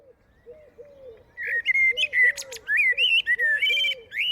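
Forest birds sing in a lively mix of whistled, warbling phrases, with a lower cooing call repeating underneath and no voices.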